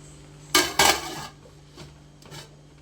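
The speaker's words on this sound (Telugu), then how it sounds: "మళ్ళీ ఒకసారి మూత పెట్టుకోవాలి." A lid is set back onto a cooking pot of chicken fry and bagara rice: two loud, close metallic clanks in quick succession, then a few faint scrapes and taps.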